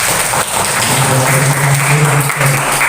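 A classroom of students claps together in one short, loud, steady burst of applause during a morning lesson, close by and filling the room.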